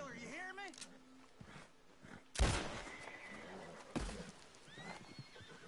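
A horse whinnies in Red Dead Redemption 2, a rising-falling neigh at the start, followed by sharp gunshot-like bangs and game noises, with someone talking over it.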